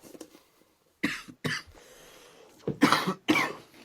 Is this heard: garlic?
no